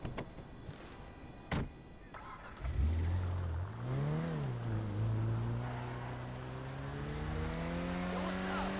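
A car in Grand Theft Auto V accelerates from about three seconds in, its engine rising and shifting through gears. The steady drone carries under game music and ambient noise.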